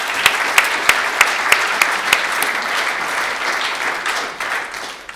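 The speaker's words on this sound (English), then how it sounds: "Please, let's have a round of applause for them as well." A room at an iftar with the Ismaili Muslim community gives a round of applause for the community's work. A few sharp, close claps stand out early over full, even clapping that thins toward the end.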